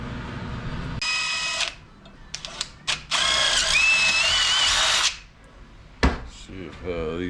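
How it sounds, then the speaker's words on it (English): A power drill with a 1/4-inch bit drills out bolt holes for a hasp on a shed door, running in several loud bursts of whining motor and grinding with pauses and clunks between, close by. "I am going to go ahead and drill these out just a tiny bit"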